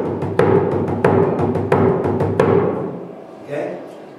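A bodhran drum played for five bars in a traditional Irish session setting, with regular accented beats falling roughly every two-thirds of a second over a rolling low pulse, loud and close, then fading out.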